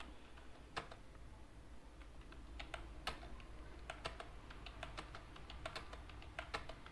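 Keystrokes on a computer keyboard while a search is run in a Linux Debian Squid proxy configuration file, irregular taps at a quiet, close level over a steady low hum.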